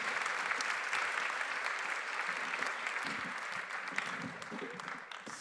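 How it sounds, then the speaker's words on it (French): A dense, steady wave of audience applause fills the room at an afternoon colloquium workshop on listening, continuous and fairly loud throughout and tapering slightly toward the end. "Je demande un tonnerre d'applaudissements."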